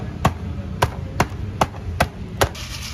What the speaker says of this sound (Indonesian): Lalu tumbuk tanah dengan palu karat.